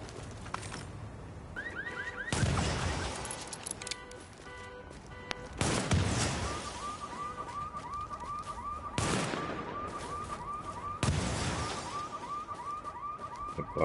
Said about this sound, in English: The bus has an alarm on it.